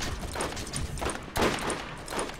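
Gunfire in the video game Borderlands comes as rapid repeated shots in a dense, loud burst, with one heavier blast near the middle and continuous rattling fire around it.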